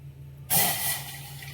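Water splashes and pours into a tumbler for cooking millet porridge after a moment of quiet, a steady close-up hissing stream with a faint low hum underneath.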